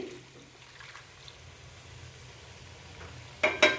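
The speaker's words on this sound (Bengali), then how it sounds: "এবারে আমি জল দেব, কিন্তু বেশি দেব না, ফোটানো জল দিচ্ছি।" A pan of sautéed spices sizzles softly and steadily, then boiled water is poured in near the end with two quick, louder bursts of hissing.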